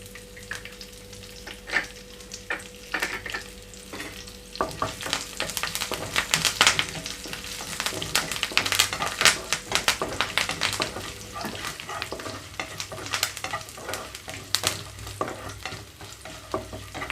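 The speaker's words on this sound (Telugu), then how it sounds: "ఆయిల్ అంతా హీట్ అయిన తర్వాత లో ఫ్లేమ్లో ఉంచుకుని తాలింపు గింజలు ఎండమిరపకాయలు వేయించుకుంటున్నాను" Mustard and other tempering seeds, dried red chillies, garlic pieces and curry leaves frying in hot oil over a low flame for a mixed vegetable fry, with a steady close sizzle, crackling pops and stirring scrapes throughout, no voices.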